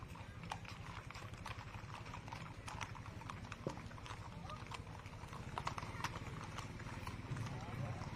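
Horses clip-clop steadily along the street in a Veterans Day parade in Hilo, Hawaii, their hoof beats mixed with crowd noise and a public-address voice speaking throughout.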